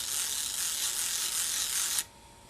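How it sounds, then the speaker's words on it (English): A Hasselblad film back's winding crank is turned, giving a steady ratcheting, whirring mechanical sound for about two seconds before stopping abruptly; close and fairly quiet, with no voices. "So take the crank, flip it out, it only turns one way"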